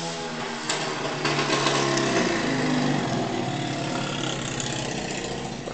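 Quad bike engines droning and revving outside, a continuous buzzing mechanical roar that swells slightly then holds steady at moderate distance.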